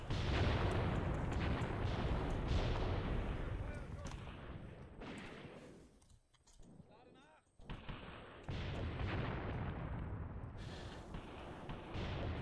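Artillery and gunfire from the war game Graviteam Tactics: heavy, continuous booming and rumbling barrages roll on, fade to near quiet for a moment, then resume at full strength with sharp reports breaking through.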